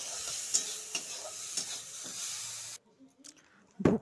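Bhog rice lightly frying in ghee in a hot kadai, with a soft steady sizzle and a few stirring scrapes, then a short quiet gap ending in a louder clatter.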